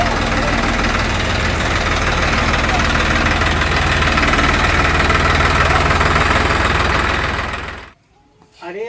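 A tractor engine idles close by with a steady low rumble and faint knocking, running continuously for about eight seconds before cutting off abruptly, with a brief quiet stretch at the end.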